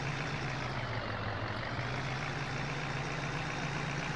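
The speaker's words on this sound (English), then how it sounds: "This Chevy is doing an amazing job towing this" Chevy Duramax truck towing a heavy camper trailer in the game Farming Simulator 17, a constant loud engine drone with a steady low hum, unbroken and without talk.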